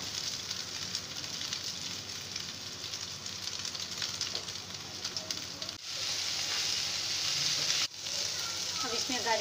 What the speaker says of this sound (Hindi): पैन में बटर डाल के चॉप किए हुए प्याज डालेंगे और जब तक इनका कलर चेंज होता है तब तक इनको फ्राई करेंगे।